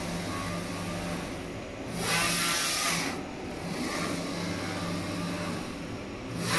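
A Focus Atlas 1311 UV flatbed printer lays down white varnish in a single high-resolution pass, giving a steady mechanical whir under a broad hiss that swells as the print carriage sweeps across, roughly every few seconds.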